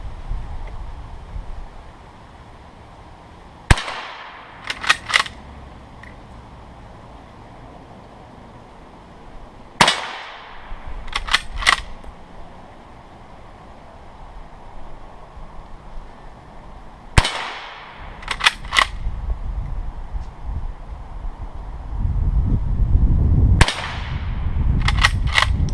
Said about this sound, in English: Shoot 5 rounds and test them for accuracy.